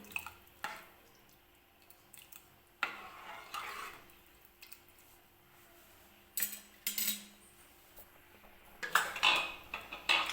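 A spoon scrapes and clinks against a metal pressure cooker pot while mixing tomato rice, in irregular strokes, soft stirring between sharper taps, close and fairly quiet.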